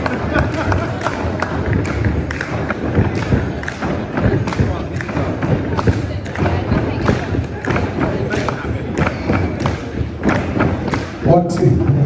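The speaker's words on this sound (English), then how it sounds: "We are going to help her out by using the table and clapping." Rapid rhythmic thumping of many hands banging on tables by wedding guests, loud and close, with crowd voices and shouting mixed in.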